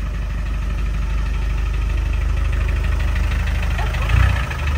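A diesel engine in a Land Rover Defender 90 runs at a steady idle, its low rhythmic rumble constant and close, with a brief louder surge near the end.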